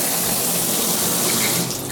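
Water from a hotel bathtub shower head runs steadily and close, a dense continuous hiss that eases slightly near the end, with no voices.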